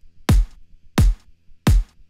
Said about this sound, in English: So together they sound like this.